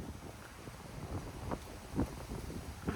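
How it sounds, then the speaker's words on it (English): Steady wind gusts outside a parked Toyota 4Runner in New Orleans, a low broad rush with mild swells near the end, fairly faint and with no talking. "look at this wind out here"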